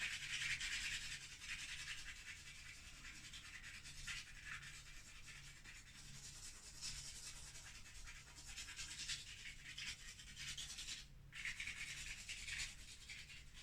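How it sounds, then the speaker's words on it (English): An eraser rubs back and forth on charcoal drawing paper in soft, continuous scratchy strokes, faint and close, with no voices. "of course I'm going to also be using my eraser quite substantially."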